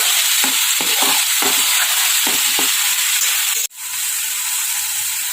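Spices and tomato puree fry in a pan with a constant loud sizzle and hiss, broken by a few soft stirring scrapes, before the sizzle briefly cuts out and then resumes.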